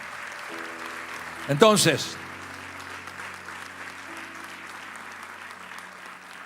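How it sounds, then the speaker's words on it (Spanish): A church congregation claps in steady, continuous applause at moderate volume, while a voice briefly speaks over it. "Si le voy a dar un aplauso, déselo fuerte al Señor."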